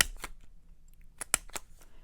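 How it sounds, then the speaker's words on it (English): A big hole punch snapping through paper for Halloween ghost craft tags, several sharp clicks and crunches in quick uneven succession, close up with no talking. "I'm going to take my big hole punch here"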